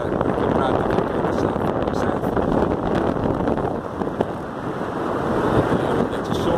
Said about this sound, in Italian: come vedete oggi c'è vento